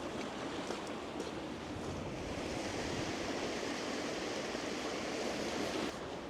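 A steady, wide wash of flowing water rushes continuously outdoors under a clear sky, fairly loud and unbroken, with no voices over it.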